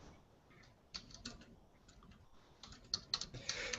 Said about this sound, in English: while I'm typing this out